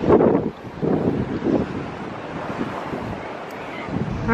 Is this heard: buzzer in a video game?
no